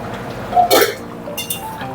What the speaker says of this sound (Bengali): 5 মিনিট হয়ে গেছে, এবার ঢাকাটা তুলি।